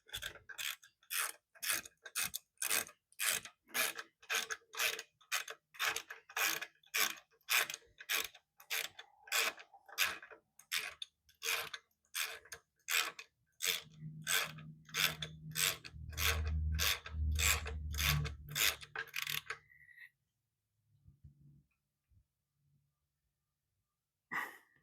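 A ratchet clicks steadily through many rapid strokes while bolts are tightened during a Ford fork rebuild, loud and close, with a low rubbing rumble joining near the end before the clicking stops and the space falls quiet.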